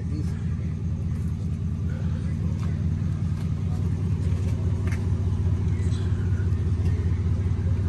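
Ford Bronco engine running, a steady low rumble that stays close and loud throughout, with faint voices in the background.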